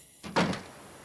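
A door opens in the video game The Long Dark with a brief, close thump followed by a fading scrape of wood against a quiet ambient background.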